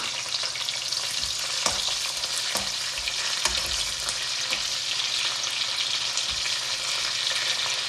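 Green chillies with whole peppercorns and shahi jeera frying in hot oil, a loud continuous sizzle with scattered crackles and occasional scrapes of a stirring spoon against the pan, no talking.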